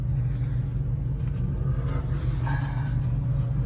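Cars passing on a mountain touge road, heard as a continuous low engine and road rumble, loud and close, with a brief rising whine midway.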